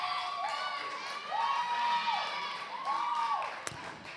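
A crowd at a women's Premier League football match between Hellenic AC and Casuarina FC cheers and shouts in swelling waves, moderately distant, with a sharp thud near the end.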